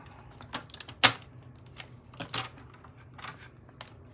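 Paper printed with a Christmas tree image is trimmed for a card, giving close, quiet clicks and snips at irregular intervals, with one sharper cut standing out and no talk.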